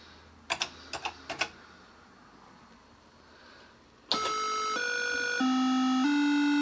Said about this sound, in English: typing with my left hand.